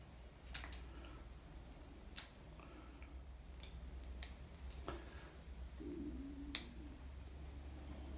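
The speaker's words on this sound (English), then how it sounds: "Kind of like trimming up this stuff here a little bit, makes it look a little more uniform." Scissors trimming ragged crappie jig material, giving a handful of quiet, sparse snips spread over several seconds against a low background hum.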